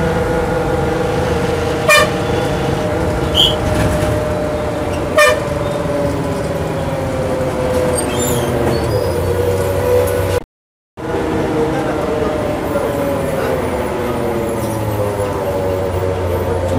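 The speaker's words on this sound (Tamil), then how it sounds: "மதுரை சிட்டிக்குள்ளேயும் நல்ல டிராஃபிக் இருக்குங்க." Busy Madurai city traffic heard from inside a moving TNSTC AC shuttle bus: a steady engine and road rumble, with sharp vehicle horn toots near and far, briefly cut by a moment of silence.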